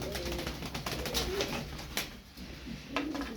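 Flying-breed pigeons coo softly in a loft, low repeated cooing from several birds at close range with faint background noise.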